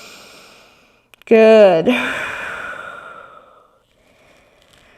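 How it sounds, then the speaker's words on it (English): One deep, audible breath out during a gentle yoga session comes as a long, voiced sigh, close and clear, and fades into quiet. A single short spoken word follows. "we're just gonna take a big breath in and a big breath out"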